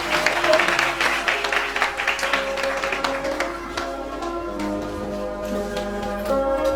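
A church congregation at a French-language service claps after a scripture reading; dense applause is strongest at first, then thins and fades while steady organ-like tones hold underneath.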